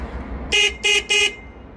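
Horn of an electric cargo tricycle sounding three short, loud, close honks in quick succession, each lasting about a quarter second, over faint background hum.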